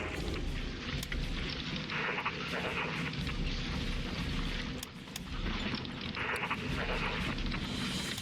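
Bombing explosions in the war strategy game Hearts of Iron 3 rumble as a dense, continuous wall of booming blasts and crackling fire, loud and close throughout.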